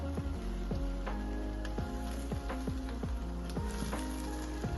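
Tamarind leaves fry in oil in a pan with a constant close sizzle and crackle, broken by regular scraping strokes as they are stirred.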